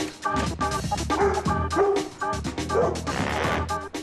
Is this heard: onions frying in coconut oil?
no